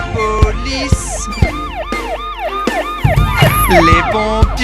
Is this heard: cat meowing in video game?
no